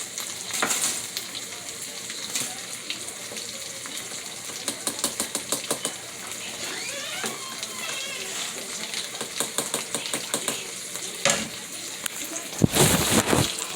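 Refried beans sizzle and crackle steadily in a hot pan, with scraping stirs and occasional utensil clicks on top of the frying.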